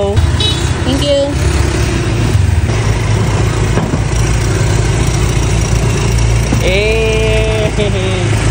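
A Honda Click 150cc keyless motorcycle idles with a loud, close, steady low engine rumble, while other traffic and horn-like tones sound briefly through it.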